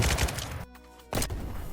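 Rapid automatic gunfire hammering a tanker truck in Roblox Jailbreak, loud and close, cutting out for a brief pause before the volley resumes.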